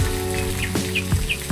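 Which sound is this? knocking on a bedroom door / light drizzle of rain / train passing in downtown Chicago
light drizzle of rain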